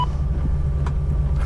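A Ford Mustang V8 drives by, either a 5.0 V8 GT or a 1970 BOSS 302: a deep, steady low engine rumble with a pulsing throb, loud and close, alone without talk.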